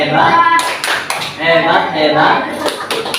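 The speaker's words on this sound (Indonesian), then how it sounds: "Tepuk hebat untuk kelompok 3." A fifth-grade primary school class breaks into a quick burst of rhythmic clapping for a group, loud and close, with children's voices mixed in.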